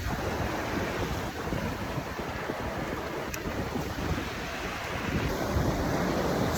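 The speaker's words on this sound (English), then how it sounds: "And then the wind is just blowing." Strong wind gusting steadily at a mountain river campsite on a high-altitude lake trek in Kashmir, a loud, continuous roar with microphone buffeting and no voices.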